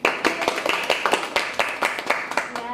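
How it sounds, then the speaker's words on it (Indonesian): A small group claps hands in a classroom at a health polytechnic, with rapid, uneven claps close by that form a short round of applause. "Oke, tepuk tangan dulu."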